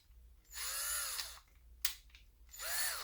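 A Ryobi drill driver spins in reverse in short bursts: a whirring whine that rises and falls, a brief sharp clack, then another run, all fairly quiet and up close.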